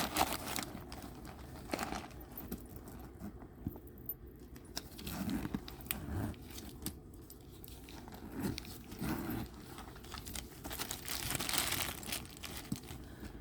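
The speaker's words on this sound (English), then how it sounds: "All the paper just won't go back in there." Packing paper crinkling and rustling while a Dooney & Bourke handbag is repacked, steady close crackles with irregular sharper crunches throughout, no talking.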